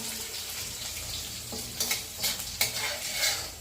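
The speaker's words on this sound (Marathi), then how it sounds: "फक्त जिरं, मोहरी आणि मिरचीचा तडका देणार आहे." Cumin, mustard seeds and chili tempering in hot oil for dal, a steady close sizzle with sharper crackling bursts partway through, no talking.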